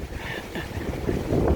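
High wind rushes through trees outdoors as a loud, broadband roar with gusty swells and buffeting against the microphone, with no clear talking.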